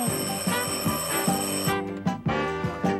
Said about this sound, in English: I heard the alarm clock ring.